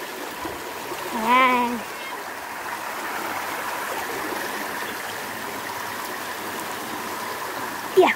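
Fresh water flowing in a stream at Bride's Pool in Tai Po, Hong Kong, a steady outdoor rushing and trickling bed of sound, with a brief spoken word near the start and a short burst of voice at the end.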